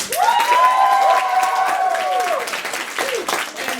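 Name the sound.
audience round of applause at improv show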